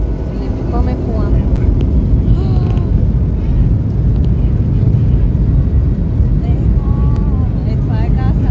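Jet airliner engines spooling up to takeoff thrust on an airport runway, a loud, steady, broadband roar filling the whole stretch, with occasional voices talking over it from inside the cabin.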